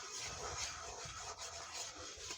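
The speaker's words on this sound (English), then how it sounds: "just keep stirring" Spoon scraping and stirring roux in a pan on the stove over medium heat, a steady close rubbing and scraping texture with a soft sizzle underneath, no voices.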